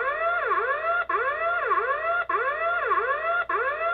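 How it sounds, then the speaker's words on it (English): Loud, close electronic siren from an outdoor PTZ security camera, wailing in repeated sweeping cycles, each burst rising and falling about four times, with brief breaks between bursts. "So now you can turn the alarm siren up."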